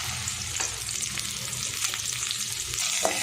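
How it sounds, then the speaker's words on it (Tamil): Cut okra sautéing in oil in a pan over a low flame, a continuous close sizzle with a few soft stirring scrapes, no voices. "லோ ஃப்ளேமே இதை வதக்கி விட்டுருங்க"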